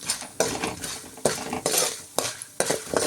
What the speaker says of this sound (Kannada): ಶೇಂಗಾ ಹಾಕ್ಕೊಂಡು ಇದನ್ನು ಸ್ವಲ್ಪ ಫ್ರೈ ಮಾಡ್ಕೊಳ್ಬೇಕು.